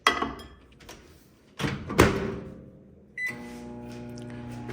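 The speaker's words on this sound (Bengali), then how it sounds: "তো মাইক্রোওয়েভে আমি আলুটা গরম করে নিচ্ছি" Microwave oven warming leftover fried potatoes in a home kitchen: door clunks and taps, then a steady low hum as the oven starts running.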